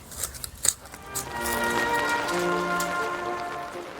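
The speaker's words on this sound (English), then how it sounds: "the forecast rain has arrived" Rain falling on an outdoor garden makeover site in Great Harwood: a few sharp taps at the start, then a steady, fairly loud patter with a faint tonal hum underneath, and no talking.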